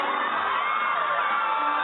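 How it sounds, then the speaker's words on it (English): A crowd cheers and whoops steadily throughout, a dense, loud wash of many voices with no single speaker standing out. "Why is the crowd cheering?"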